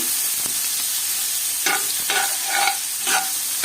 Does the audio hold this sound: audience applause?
no